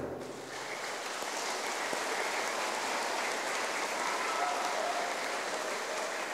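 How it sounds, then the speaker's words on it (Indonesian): A parish gathering applauds warmly during a visit to the parish, the clapping rising quickly and holding as a steady, even patter from many hands, like rain. "Tepuk tangan dulu untuk kita."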